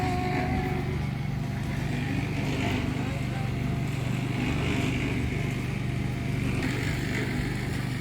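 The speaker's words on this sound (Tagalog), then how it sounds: "Please excuse the noise. Kasi merong construction ongoing." Steady mechanical droning from ongoing construction on a hillside camp at Farmer's Hill, Sagada, with an engine-like hum running continuously and evenly throughout, moderately loud and unbroken.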